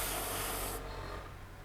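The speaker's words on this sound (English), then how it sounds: "I'm spraying about 30 psi," An airbrush sprays paint at about 30 psi onto a scale model of an SA-4 Ganef missile launcher, giving a steady close hiss that cuts back partway through and then tails off.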